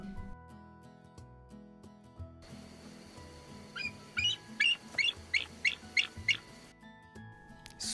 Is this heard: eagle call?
yes